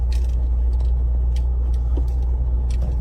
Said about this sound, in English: You can hear the top moving.